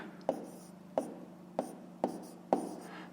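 A pen writes by hand on paper while a fifth-grade fraction exercise is worked out. Five quiet, close, scratchy strokes come at a fairly even pace, with no voices.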